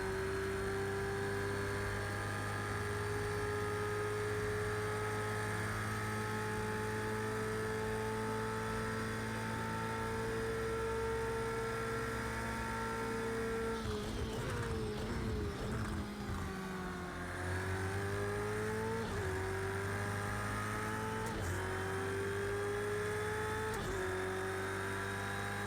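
Ferrari GT3 race car at Bathurst in Project Cars 2, its engine droning loud and steady at high revs, then a burst of quick gear changes with pitch drops and climbs as it powers down a long straight.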